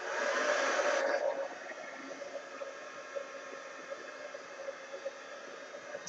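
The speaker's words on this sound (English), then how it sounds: "Maybe it'll help when I dry it a little bit. Heat gun." A heat gun blows hard over heavy body acrylic paint, a steady broadband hiss that cuts off after about a second, leaving a quieter background hum with faint bumps.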